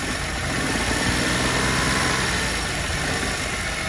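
A 2008 Daewoo Matiz SE idling steadily, a constant close engine hum and light vibration with no change in pace, heard alone without talking.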